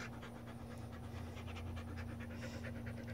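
Puppy panting close by in quick, soft, steady breaths over a faint background hum.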